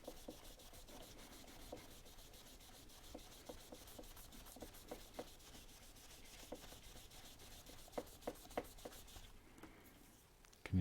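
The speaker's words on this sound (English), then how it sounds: "I'm going to sand a bit harder here." Close, steady hand sanding on the metal of a Turner No. 4 1/2 smoothing plane, a continuous dry rubbing scrape with a few sharper strokes near the end.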